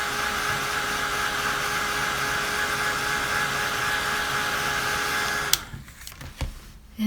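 An electric heat tool whirs steadily and close for several seconds while drying Derwent Inktense pencil ink on paper, then switches off, leaving brief handling knocks.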